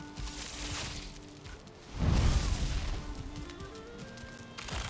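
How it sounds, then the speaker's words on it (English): Valheim's magic staff launching a fireball makes a low whooshing burst midway, swelling into a rumbling roar that fades over a couple of seconds, with lighter game effects before and after. "We shoot a fireball."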